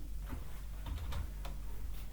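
Quiet keystrokes tap on a computer keyboard while text is entered in MS Paint, a few soft irregular clicks over faint background hum.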